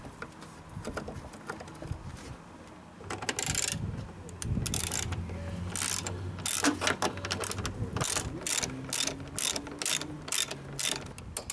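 A torque wrench clicks repeatedly while the upper mounting bolts of a car's front shock absorber are tightened. The ratchet gives close, crisp clicks that speed up into a quick run in the second half, with clanking mechanical handling at the start.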